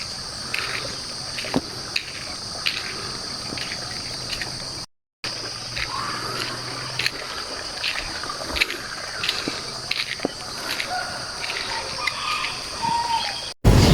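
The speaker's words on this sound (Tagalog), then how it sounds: "At wala kang maririnig kundi yung mga sound ng ibon" Birds chirp and call intermittently at sunrise in Mindanao over a steady bed of insect buzzing, an open outdoor ambience with distant calls and no talking.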